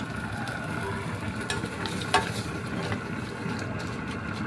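Small shrimp sautéing in butter in a pan make a steady close sizzle and crackle, with a few brief clinks and stirring scrapes, and no talking.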